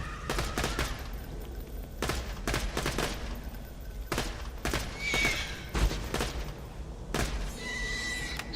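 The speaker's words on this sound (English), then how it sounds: "Short little burst from the TMP" A short burst from the TMP gun in Borderlands 2, heard as a string of quick sharp shots in a busy game scene with steady background rumble and a few other effects.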